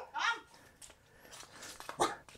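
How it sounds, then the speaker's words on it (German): A dog at a guesthouse in Thailand gives a couple of short, moderately near barks separated by a quieter pause, with faint background voices. "Also solltest keine Angst vor Hunden haben hier, ne?"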